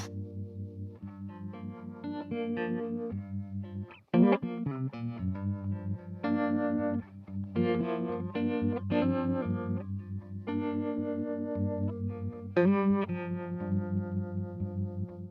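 Electric guitar plays chords through a warbling harmonic tremolo effect, the tone pulsing steadily, loud and up close with no voices.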